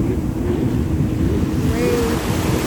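Ocean surf washes steadily at Cocoa Beach, Florida, during a boat race, with wind buffeting the microphone and a faint boat engine passing in the distance, no talk.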